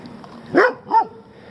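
Street dogs in Turkey bark outdoors along a road, two short distinct barks about a third of a second apart, moderately close over a quiet background.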